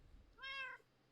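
A single short, clear meow from a cat in the Minecraft video game, faint and alone, with no talk over it.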